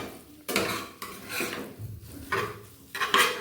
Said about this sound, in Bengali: ভালো করে এটাকে ফ্রাই করবো